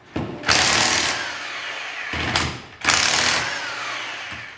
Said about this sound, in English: So first thing we're going to do is just take the wheel off.